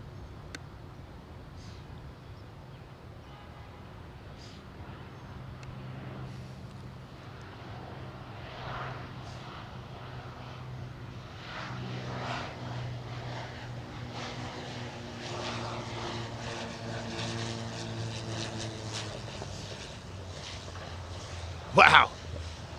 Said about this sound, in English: Hear those props popping and spluttering pop, pop, pop, as he comes off to gas.